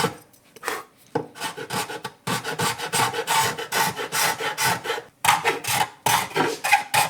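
A hand scraper rasps across the wood of an acoustic guitar beside the purfling while the arm bevel is reworked, a series of close, rhythmic scraping strokes with short pauses between them.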